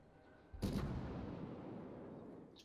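A warship's main guns fire once in a naval combat video game, a heavy close boom that rolls off into a long fading rumble, with no speech over it.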